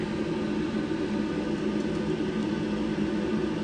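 Wort churns at a rolling boil in an electric 240v homebrew kettle for a NEIPA, a steady, dense rushing roar with no breaks and no talk.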